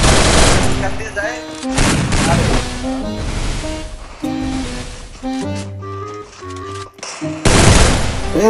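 Rapid bursts of gunfire in a shooting video game, dense and loud across the whole stretch, mixed with game music tones and background effects, with no talking over it.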